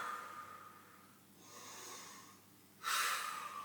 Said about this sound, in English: Take a few deep breaths there.